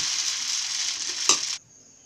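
Dosa batter sizzles steadily on a hot tawa, a close, bright hiss broken by one short clack, then cutting off abruptly and leaving only a faint trace.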